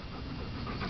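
A wire-haired miniature dachshund panting close up, a steady rapid breathy hiss filling the whole brief moment.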